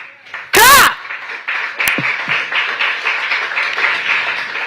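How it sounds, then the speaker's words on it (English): Audience at a public meeting breaks into clapping after a loud burst, a moderate, uneven patter of hands continuing to the end. "Clap!"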